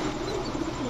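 A Pakistani Kalpetti female pigeon gives a soft, low coo close by, set against a steady wash of background noise, with no talking.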